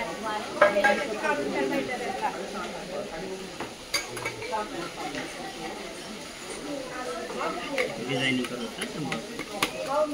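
Utensils clink and scrape against a bowl as chana vatana chaat ingredients are mixed, a steady jumble of light metallic stirring under someone talking to a child.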